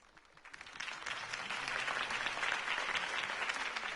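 A crowd applauds after a campaign speech for Harvey Dent, with clapping that starts scattered, then swells within a second into steady, dense applause that holds to the end.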